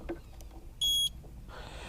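A 2003 Johnson 70hp four-stroke outboard sounds its start-up alarm, a single short high-pitched electronic beep lasting about a quarter second amid quiet background noise.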